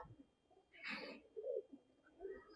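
A Taddy breeder pigeon gives soft, low coos, two or three faint murmuring calls close by in a quiet setting.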